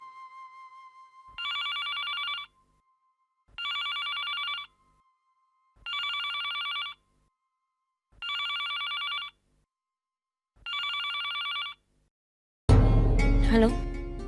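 A landline telephone bell rings five times in steady, evenly spaced bursts, loud and close in a quiet room, then gives way to a burst of music.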